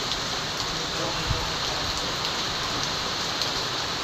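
Heavy typhoon rain pours down with gusting wind, a dense, steady hiss of drops on surfaces close by, with faint scattered taps.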